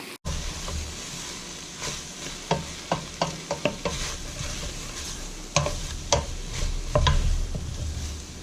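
Paste for a goat casserole with juniper, sage and fennel fries in a pan, a continuous close sizzle broken by repeated sharp scrapes and clacks of a utensil stirring, with no voices.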